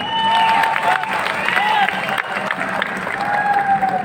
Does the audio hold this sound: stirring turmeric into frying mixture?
no